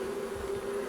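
A brief, steady hum of honeybees comes from a mini-plus nucleus hive, one even close tone with no voices.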